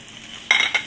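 Flour hitting a hot frying pan during gravy-making for beef liver and onions, two short bursts of bright sizzling and stirring close by, the first longer, over a quiet kitchen background.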